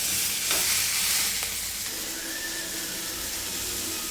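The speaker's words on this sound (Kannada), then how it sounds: "ಇದನ್ನು ಕ್ವಾಂಟಿಟಿ ಜಾಸ್ತಿ ತೊಗೊಳ್ಳಿ ಇದೆಲ್ಲ ಚೆನ್ನಾಗಿ ಫ್ರೈ ಆಗಬೇಕು" Bottle gourd mixture frying and being stirred in a pan: a steady, close sizzle throughout, with faint scraping stir strokes over it.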